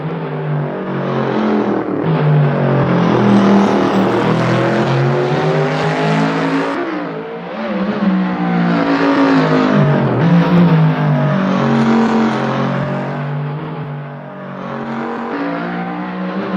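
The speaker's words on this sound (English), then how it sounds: "Very nice car." A car engine revs and pulls hard while driving, rising and falling in loud sustained waves over more than fifteen seconds, close and prominent, with no talking.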